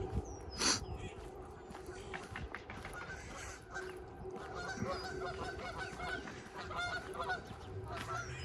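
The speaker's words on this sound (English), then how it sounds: "Never any shortage of geese to look at." A flock of geese honk repeatedly outdoors along a creek in Regina, a busy overlapping chorus of calls at moderate distance, with one louder honk near the start.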